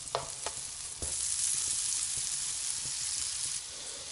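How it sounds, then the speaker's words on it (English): Pancetta fries in olive oil and a knob of butter in a pan, a bright, even sizzle close to the mic with a few taps and clinks of a utensil, and no voice. "I've got some olive oil in a pan and I've put a knob of butter in now. I've added some pancetta. I'm going to let that fry off."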